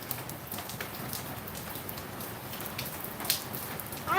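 Steady rain falls and patters on surfaces outside, a dense, even hiss of drops close by with a few louder splashes near the end and no voices.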